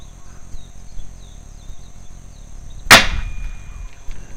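A .30 cal/7.62mm rifle fires a single sharp shot outdoors at a target about 150 feet away. The crack is followed by a thin, high, sustained whine as the bullet zings downrange, over quiet ambient background.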